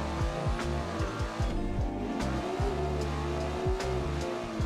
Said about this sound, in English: Yes, we're pulling third gear now.